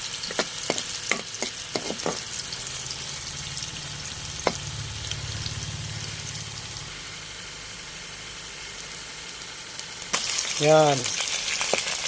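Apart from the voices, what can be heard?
ginger and garlic sautéing over charcoal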